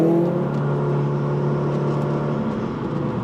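A car pulls away to begin its second lap on a race track, the engine droning loud and steady as it accelerates, with a gradual rise in pitch.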